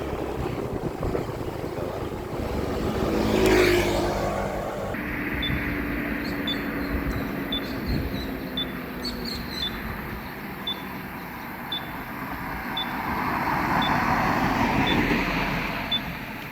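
Vehicles passing on a quiet road at dawn during the post-Lebaran return trip near Barru, heard as a couple of swelling, fading whooshes with steady wind and rumble, one pass near the start and another toward the end.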